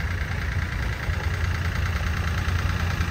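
Newer Monarch Founder Series tractor running steadily at an agricultural museum power show, a constant low engine hum and vibration with no talk over it.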